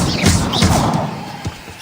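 A Depulso spell cast in Hogwarts Legacy: a brief whooshing burst followed by dull thumping impacts, loud and close, fading within about two seconds.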